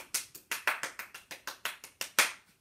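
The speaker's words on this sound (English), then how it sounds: "Give yourselves a big round of applause." About a dozen sparse, quiet hand claps sound in a fairly even rhythm during a class rhyme lesson. They are distinct and separate rather than blending into a crowd roar, and no one talks.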